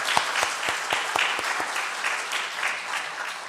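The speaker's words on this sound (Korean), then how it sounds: "감사의 박수를 한번 보내주시기 바랍니다" A church congregation at a Sunday worship service breaks into applause: a few distinct claps at first, then steady, dense clapping that fills the room.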